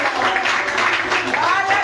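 A church congregation applauds in a dense, steady wash of clapping that fills the room, mixed with voices throughout.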